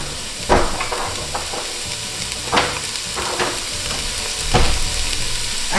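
Onion sautéing in a pan with garlic, a constant loud sizzle and hiss with a few scraping stirs of a spoon spaced out over the span, close up, no voices.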